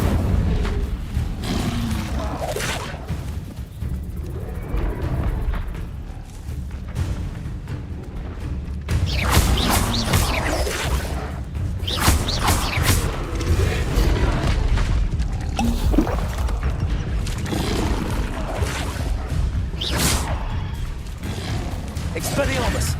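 Incendio fire spells bursting repeatedly in the Hogwarts Legacy video game, a dense run of loud booming blasts and crackling impacts layered over busy combat noise, with a voice speaking throughout.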